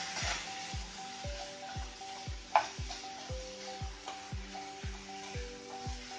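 Lemon pickle with green chillies being stirred in hot oil in a pan, stove just switched off: a soft, steady sizzle under regular, rhythmic scraping strokes, with one sharper clink partway through.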